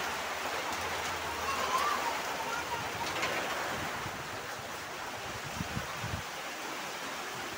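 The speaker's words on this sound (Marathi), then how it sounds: "पाऊस पण जोरदार आहे बघा इकडे." Heavy rain pours steadily in a dense, loud rush, with a few low thumps toward the end.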